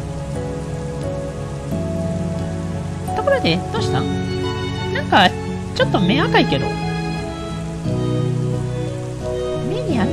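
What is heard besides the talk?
rain falling in the video game Dragon Truster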